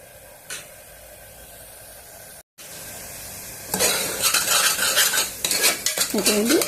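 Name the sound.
stirring chicken curry in a pan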